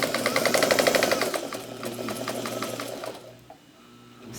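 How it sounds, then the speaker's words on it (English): A sewing machine stitching a quarter-inch seam along a quilt block, close and loud, a fast steady needle chatter that slows and stops near the end. "we're going to just run down 1/4 of an inch seam all the way down"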